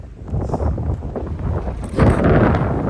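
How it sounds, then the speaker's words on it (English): Strong gusting wind roars and buffets against the microphone outdoors, a steady broadband rush that swells louder partway through, with no speech. "This wind."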